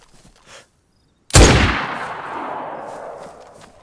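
A single loud gunshot in the video game DayZ cracks sharply after a near-silent pause, then a long rumbling echo trails off over the next couple of seconds.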